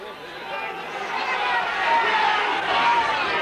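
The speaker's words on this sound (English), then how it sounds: "a big row from the Rovers crowd" A rugby league crowd at a Rovers home match against Warrington roars, a dense wash of many voices that swells louder partway through and stays high, with a commentator's voice mixed in.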